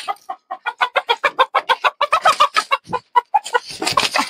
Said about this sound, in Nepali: कति बोल्यो हो भाले, लोकल हो नि साथीहरू।